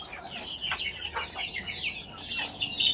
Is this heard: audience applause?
no